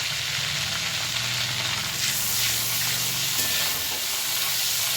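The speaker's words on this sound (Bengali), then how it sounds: "এই যে কালো জিরা আর শুকনো লঙ্কাটা দিয়ে দিলাম আমি" Nigella seeds and dried red chillies fry in hot oil left over from frying fish, a loud, steady close-up sizzle and crackling hiss that continues throughout without any speech.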